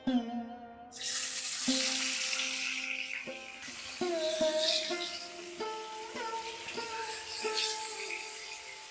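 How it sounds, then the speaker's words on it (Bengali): Pomfret fish frying crisp in hot oil in a non-stick pan, a steady broadband sizzle with scattered light utensil clinks and taps against the pan, close and alone. "আমি মাছগুলোকে একটু কড়া করেই ভেজে নেব"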